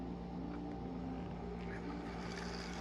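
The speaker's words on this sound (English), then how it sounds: "Let me see if we can see the locomotive running." An old Fleischmann HO-scale model locomotive runs along the track, its small motor and gears giving a faint, steady whirring hum with a tonal whine.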